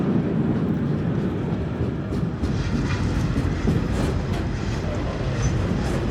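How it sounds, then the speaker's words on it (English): Steady roar and rumble of model trains rolling by on the tracks, with faint clickety-clack, continuous and fairly close, no voices. "they've got 2 trains going right by them at the same time"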